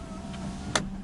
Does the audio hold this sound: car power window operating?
yes